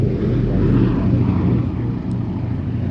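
A Boeing B-17 bomber flies at an air show, a loud, deep, continuous piston-engine rumble that swells slightly and then eases off.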